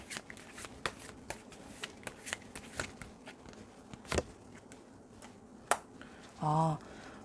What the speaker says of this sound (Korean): 좋은 카드 하나만 더 뽑아볼게요.